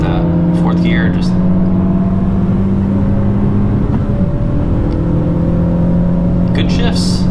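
A 10th-gen Honda Civic Si accelerates hard, the engine droning as it climbs, dipping briefly at a gear change, then pulling again, heard from inside the car with people talking over it.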